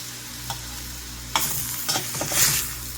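Dollar General food being reheated in small batches in a pan for a budget Christmas dinner, with a soft frying sizzle broken by a few stirring scrapes and clatters, quiet and close.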